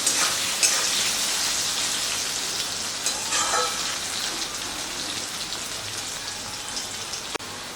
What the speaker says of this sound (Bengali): নুন হলুদ দিয়ে আলুটাকে বেশ লাল করে ভেজে নেব।